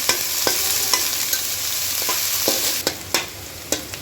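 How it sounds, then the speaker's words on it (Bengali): Chopped onions fry until light brown in hot oil with a few bay leaves in a pan for a pumpkin chicken curry, giving a steady close sizzle broken by occasional spoon stirs and scrapes, with no voices. "পেঁয়াজটা হালকা বাদামি করে ভেজে নেব।"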